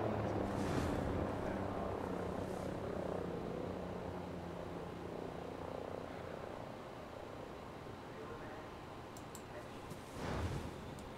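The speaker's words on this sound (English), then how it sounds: "Enemy chopper in the AO." An enemy helicopter in the tactical shooter Ghost Recon Breakpoint drones overhead as a low steady rumble, with gunfire-like bursts and voices partly over it.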